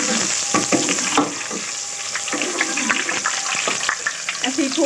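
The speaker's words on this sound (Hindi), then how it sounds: "ऐसे ही थोड़ा सा इसको फ्राई करना है" Ginger fries in a hot pan for a home-style spinach and chicken dish, giving a steady loud sizzle with stirring scrapes and clatters throughout.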